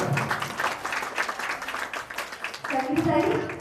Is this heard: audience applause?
yes